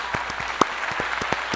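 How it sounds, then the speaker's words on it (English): A sparse round of clapping at a virtual Wish Ball gala, with distinct individual claps close by at an uneven rhythm, moderately loud and brief. "Please give our sponsors one more round of applause"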